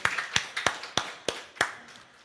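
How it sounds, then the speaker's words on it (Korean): About half a dozen sharp hand claps ring out in an irregular rhythm during a Sunday church worship service, each fading quickly in a reverberant room with no voices. "하나님께 영광의 박수를 올립니다."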